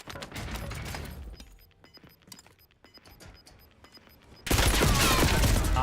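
Video game gunfire with heavy recoil: a dense automatic burst up front, scattered shots and faint pings through the middle, then a loud sustained final volley, all close and without talk.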